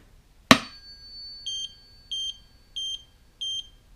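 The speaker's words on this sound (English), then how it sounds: "So I use a tuning fork and it should pick up at 250 Hertz." Tuning fork struck once with a sharp metallic ping for checking a belt tension frequency meter during timing belt fitting on a Ducati 748, then a ringing tone followed by four short, evenly spaced electronic double beeps from the meter, close and clear.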